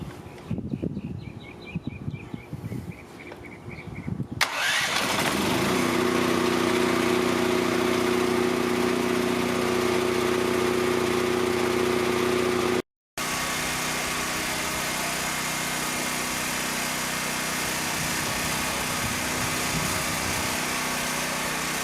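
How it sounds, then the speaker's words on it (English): A WEN DF1100T dual fuel 11,000-watt generator cranks and fires up after a few seconds, then settles into a loud, steady close-up idle drone with a brief dropout near the end. "By flipping the generator around where the fuel pickup was on the downhill side, it fired right up."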